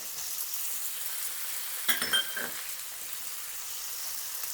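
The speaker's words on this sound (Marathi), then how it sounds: "आता हे छान असं परतवून घ्यायचं आहे इथे आपल्याला थोड्याशा भाज्या शिजवून घ्यायच्या आहेत" Beans, carrots, tomatoes and peas sauté for a Hyderabadi green vegetable biryani, giving a steady, soft sizzle with a brief clink and stirring rustle partway through.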